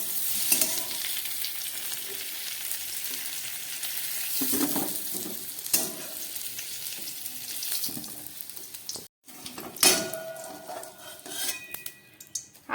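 Potato and pointed gourd pieces frying in oil with salt in a pan, a steady sizzle broken by scraping stirs and clinks of a spatula against metal, close and clear with no talk.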